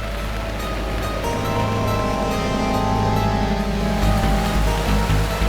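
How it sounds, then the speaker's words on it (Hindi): High sea waves surge in a continuous, loud roar of churning surf, with a deeper rumble building toward the end and no voices over it. "ये समुद्र में ऊंची उठती लहरें चंद्रमा की गुरुत्वाकर्षण शक्ति का प्रभाव है"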